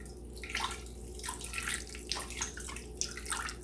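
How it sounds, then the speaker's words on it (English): Water poured over small pieces of usnea lichen in a container, a faint, uneven splashing trickle with bursts of gurgle, close and quiet, with no voices. "I'm going to cover that with 12 ounces of water"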